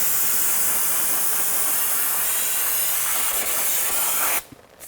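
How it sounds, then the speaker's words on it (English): Brake cleaner solvent sprays in a steady, loud, close hiss onto a drum brake assembly of a 2017-2020 Hyundai Elantra, continuing for about four seconds before cutting off abruptly. "go ahead and use some spray solvent to clean this down and get all that brake dust off"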